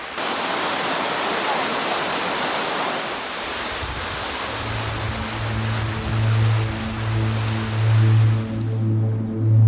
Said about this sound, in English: Piping hot waterfalls that have flowed through the cliffs of Jermuk since time immemorial.